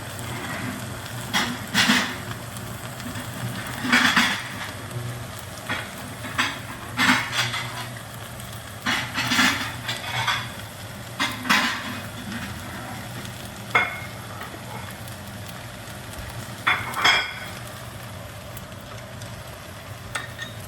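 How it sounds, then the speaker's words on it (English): A crab noodle stir fry made with Dungeness crab sizzles in a pan, a steady frying hiss broken by repeated scrapes and clinks of a utensil against the pan as the noodles are tossed. "This is the crab noodle stir fry."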